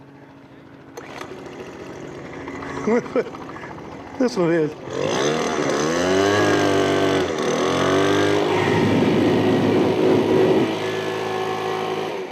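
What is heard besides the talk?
gas leaf blower running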